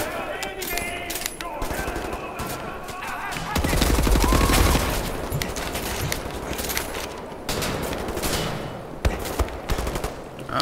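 Dense automatic gunfire and shooting in Wolfenstein: The New Order, rapid bursts and crackling shots running almost continuously, swelling to a heavier, louder volley midway, with brief voice fragments mixed in.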